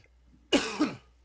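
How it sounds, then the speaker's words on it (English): A single harsh cough, close and abrupt, in two quick bursts, with quiet before and after, from a commentator during a Team Fortress 2 match. "Pausing for a cough and a drink."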